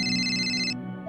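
A phone ringtone chimes in steady electronic tones, then cuts off abruptly partway through, leaving a quieter tone behind.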